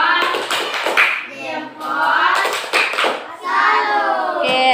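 A school class doing the tepuk jempol thumbs clap, with children chanting in rhythm and short bursts of hand claps in three loud, close rounds.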